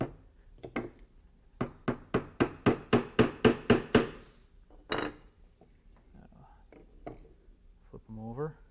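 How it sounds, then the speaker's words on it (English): A tack hammer taps old tacks into a carved wooden shore bird, a quick run of about ten sharp, evenly spaced strikes, then a few scattered knocks, close by, with soft speech nearby. "And find my tack hammer"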